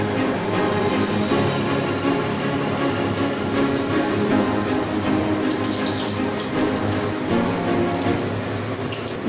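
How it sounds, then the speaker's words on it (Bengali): Batter-dipped pointed gourd pakoras frying in hot oil, a loud, dense, continuous hiss and crackle that stays steady throughout with no talking. "পটলগুলো ব্যাটারে ডুবিয়ে দিয়ে দিচ্ছি তেলে।"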